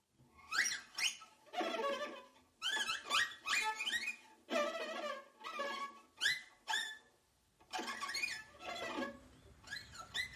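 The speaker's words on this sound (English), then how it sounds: "The rich squeak of the parakeet." Repeated rich, harsh squeaks from a parakeet come in bursts with short pauses, close and clear, with no talking.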